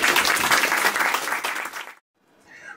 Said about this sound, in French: On peut applaudir vraiment.